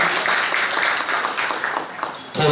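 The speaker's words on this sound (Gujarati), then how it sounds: "જબરદસ્ત રજૂઆત માટે આપણે જોરદાર તાળીઓથી અમે નટુભાઈને વધાવીએ" An audience at a Gujarati comedy poetry show applauds a poet, a steady wash of many hands clapping for about two seconds before it breaks off abruptly at the end.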